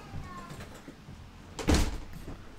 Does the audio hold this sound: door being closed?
yes